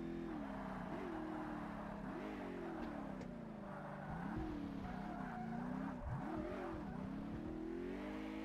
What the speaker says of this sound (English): That was a good bit of a tactical sliding from the rear of my car there.